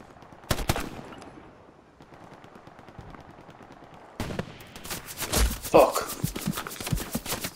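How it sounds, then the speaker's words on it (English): Machine gun fire in the World War II shooter Hell Let Loose: a sharp burst early, then quieter distant shots, then a heavier sustained stretch of rapid automatic fire with other battlefield noise layered in. "Shot by machine gun badly there."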